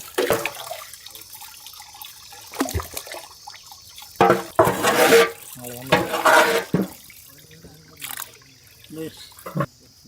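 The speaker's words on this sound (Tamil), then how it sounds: "பொறுமையாக ஊற்றிட்டு நம்ம வடியணும்ல" Liquid is poured slowly through a cloth to strain homemade paneer in a village kitchen, producing intermittent splashing and trickling bursts with quiet gaps between them.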